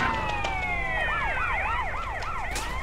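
Several police car sirens wail and yelp close behind the player in Grand Theft Auto San Andreas, their overlapping rising and falling tones loud and continuous over engine rumble.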